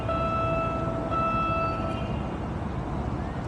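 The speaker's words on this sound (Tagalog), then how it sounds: "Ang ganda na ng tren ng PNR ngayon," A PNR passenger train passes nearby with a steady rolling rumble. A sustained tonal horn sounds over the noise and then fades.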